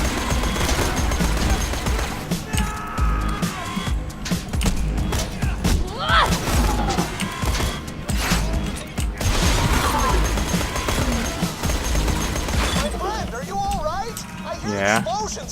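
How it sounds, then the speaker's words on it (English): Rapid gunfire and booming blasts in Borderlands 2 crackle throughout, mixed with excited talking and shouting over the top. "Explosions coming from the lighthouse."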